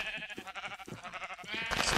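Sheep bleating in the video game Minecraft, a wavering, nasal cry heard close and fairly loud, with a second rising bleat at the end.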